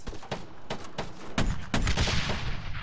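A tank gunner in Arma 3 fires on enemy troops: sharp gunshot bursts crack out in an uneven series, the later rounds heavier and louder with rumbling tails.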